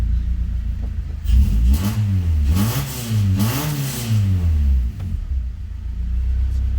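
A Honda H22A engine in an EK Civic revs up and down several times in rising and falling sweeps, loud and close, before dropping back to a steady idle.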